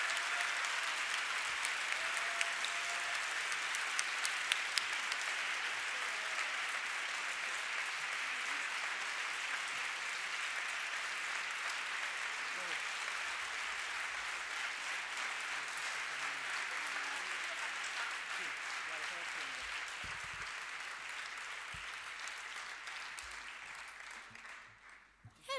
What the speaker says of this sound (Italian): Un bel applauso a Gianna